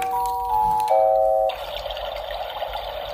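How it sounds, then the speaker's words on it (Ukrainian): A baby toy plays a soft chiming melody that gives way to a steady hiss of waterfall or white noise, loud and close with no talking. "Це водоспад чи білий шум, скоріше за всього, білий шум."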